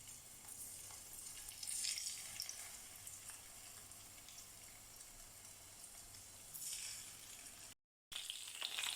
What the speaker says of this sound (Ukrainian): Жаримо до готовності з двох сторін на середньому вогні до гарного золотистого кольору